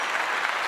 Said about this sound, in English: Can you get a clap for that?